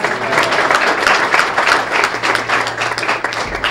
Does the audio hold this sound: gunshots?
no